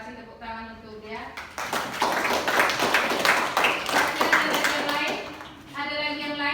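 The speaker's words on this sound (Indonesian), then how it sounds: "Oke, terima kasih, tepuk tangan untuk dia." A classroom of students applauds a classmate with a burst of mixed, overlapping clapping lasting a few seconds. A teacher's voice is heard just before and just after the clapping.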